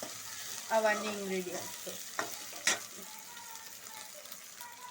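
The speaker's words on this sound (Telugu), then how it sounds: "కొంచెం పుదీనా కూడా యాడ్ చేసుకోవాలి, కొత్తిమీర కూడా యాడ్ చేసుకోవాలి. కొంచెం కలుపుకోవాలి" Mint and coriander are stirred into a sizzling egg tomato curry, with a few soft scraping strokes over a gentle frying hiss, close and quiet, and a voice speaks briefly.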